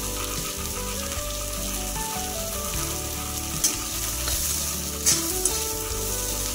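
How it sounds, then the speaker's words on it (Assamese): Onion fries in hot oil with a pinch of salt, a loud continuous sizzle with stirring scrapes and a couple of sharp crackles, close up and without speech. "অকল পিঁয়াজটো ৰঙা নোহোৱালৈকে অলপ সময় ফ্ৰাই কৰি লওঁ"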